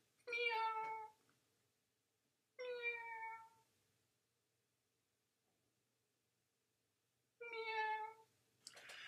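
A domestic cat meows three times at close range: two quick, bright calls about two seconds apart, then a pause and a third meow, with no other sound between them.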